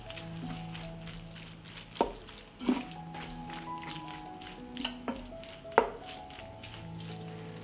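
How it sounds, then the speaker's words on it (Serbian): Minced meat frying in a pan with spices, tomato paste and rosemary, being stirred: a steady soft sizzle with a few sharp clinks and knocks of the utensil, over a faint tonal background. "Sve ću promešati i nastaviti da prži."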